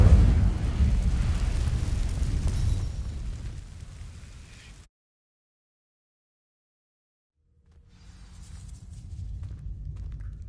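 Incendio fire spell cast onto dry vines in Hogwarts Legacy, a loud fiery burst that roars and crackles for several seconds, fades into full silence, then a softer rumbling swell returns.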